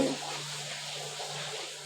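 Water is poured into a pan of dried fish masala, giving a soft continuous pouring and sizzling wash that starts slightly louder and then holds steady, with no voices.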